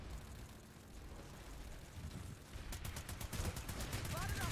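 Rapid automatic gunfire from PlanetSide 2 on PS4 rattles in a dense burst during the second half, over a steady wash of battle noise with faint talk.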